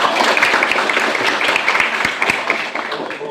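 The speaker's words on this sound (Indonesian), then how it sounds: "Aplaus dulu untuk kita semua" Thirty-six students clapping together in a classroom, a dense, loud, steady burst of applause lasting several seconds and fading slightly at the end, with voices mixed in.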